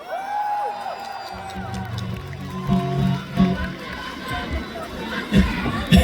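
A large concert crowd at a show in Makassar in 2024 applauds and cheers in a loud, steady roar, with a voice on the PA talking over it.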